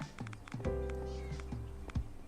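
A cat in the Minecraft modpack ATM 10 meows a few times in short, close calls, interrupted by tapping and other game noises.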